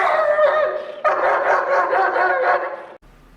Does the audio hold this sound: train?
no